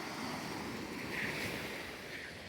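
Calm sea waves wash gently onto the beach at Khao Lak in Thailand, a steady soft rush of surf mixed with light wind noise on the microphone, with no one speaking.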